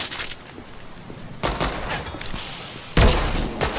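Electric grenades in the game ADACA go off in crackling, zapping bursts, one sharp loud blast after another with short gaps between, close and forceful.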